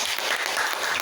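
Students in a classroom clap together in a steady, dense burst of applause, close and fairly loud for a brief moment, with no voices.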